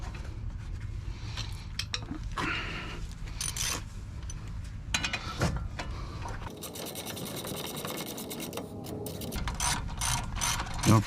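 Wheel lug bolts being threaded and ratcheted back on during a brake pad and rotor replacement, with repeated close, loud clicking ratchet bursts and metallic scraping, broken by brief pauses, with no talking.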